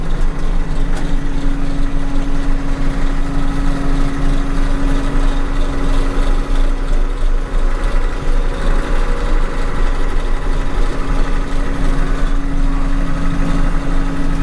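John Deere 8820 combine engine running continuously while driven around the yard, a loud steady low rumble with a constant hum and vibration throughout, no voices.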